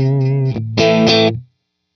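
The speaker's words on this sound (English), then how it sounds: "And then the delay is that analog delay with the real short." Electric guitar notes with a short analog delay give a tight slapback echo, a few notes then a sustained chord that fades out.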